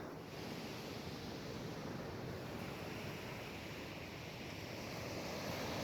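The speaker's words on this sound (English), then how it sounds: "The tide is rapidly approaching. The beach is getting smaller." Ocean surf washes onto a beach on the Olympic Coast as the tide rises, a steady broadband roar mixed with wind buffeting the microphone and no distinct breaking waves.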